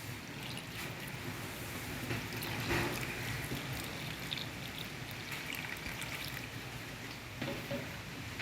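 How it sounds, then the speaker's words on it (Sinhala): Water poured into a pot of dhal curry with tomatoes, a soft continuous trickling and splashing that stays fairly faint and close, with a brief surge partway through. "තක්කාලිත් දාලා ඉවරලා අපි මේකට වතුර දාගමු."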